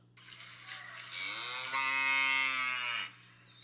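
A cow lets out one long, loud moo with rich harmonic layers, close and sustained for about three seconds over a steady low hum.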